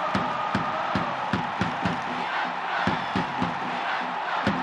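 Crowd of soccer supporters in the Winning Eleven 98-99 game cheering for a J.League match as a team takes the field, a dense continuous roar with rhythmic clapping or drum-like chants pulsing through it.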